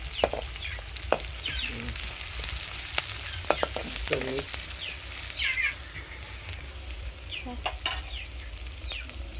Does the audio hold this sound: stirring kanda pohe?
yes